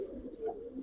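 Giribaz pigeons coo softly and at a distance, with a few low, rolling calls rising and falling over a quiet background.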